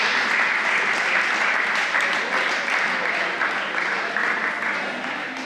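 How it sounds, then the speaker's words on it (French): Sustained audience applause at a school volleyball match between L'Escale and Casselman, a dense steady clatter of many hands filling the gym and tapering slightly toward the end. "On continue à applaudir."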